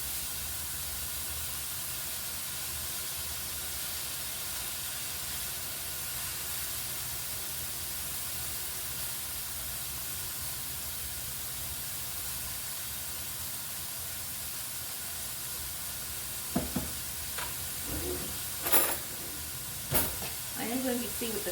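Vegetable fried rice with garlic powder frying in a hot pan gives a steady, broad sizzle that runs throughout, with a few short clinks and stirring knocks near the end.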